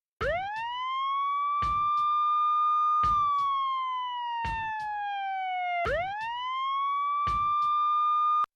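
A police siren wails up and down in a smooth rising and falling sweep, loud and clear, with rhythmic clicks ticking underneath.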